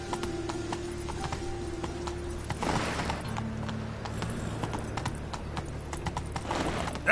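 Hooves of the horse Roach clip-clopping steadily in a video game, a continuous rhythmic trot over a low ambient bed, with a brief surge of noise midway and no talking.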